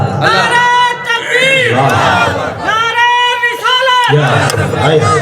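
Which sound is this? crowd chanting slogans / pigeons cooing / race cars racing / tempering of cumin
crowd chanting slogans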